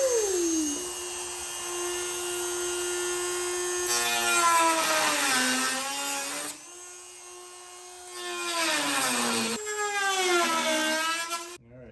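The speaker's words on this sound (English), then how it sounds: "But cutting into this section is fiberglass." A power tool cutting through a fiberglass section during a car door installation, a loud high whining buzz that rises and falls in pitch across several long cuts, with short pauses between them.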